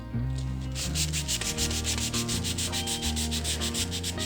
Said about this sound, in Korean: 이 상태로 홈에 넣고 그대로 결방향대로 밀어주셔서 안쪽 거스러미들을 제거를 해주시면 됩니다.